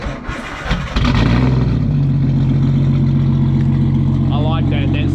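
Nissan Skyline R32 with an RB30DET engine and a new exhaust cranks briefly, fires up, then settles into a loud, steady idle close by, with voices talking over it.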